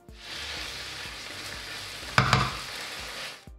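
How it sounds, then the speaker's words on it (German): Minced meat sizzles steadily in hot oil in a pan with chopped garlic and onion as it browns to crumbs, with a sharp clatter of stirring near the end. "erhitzen wir Öl in einer Pfanne, geben dann das Hackfleisch hinein, ebenso die geschnittene Knoblauchzehe und Zwiebel, braten das Gehackte dann krümelig und hellbraun an"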